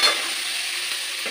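Vegetables frying and being stirred in a pan for sago pulao, a steady close sizzle with a brief scrape of stirring at the start, alone with no talking.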